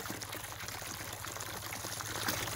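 A waterfall on a farm in Portugal, right by a 10,000-litre water tank, gives a close, steady splashing rush that fills the whole short stretch without pause.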